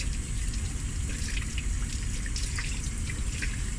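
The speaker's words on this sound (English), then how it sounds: "So you put on your water, just rinse it out quickly." Tap water rinsing a microfiber cloth: a steady, close stream of running water with soft splashing and dripping, continuous and even throughout, with no voices.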